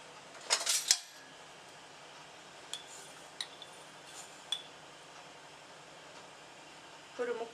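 One cup of urad dal poured into a bowl for idli batter: a brief, bright rattling pour of grains, then a few scattered faint clinks in a quiet kitchen.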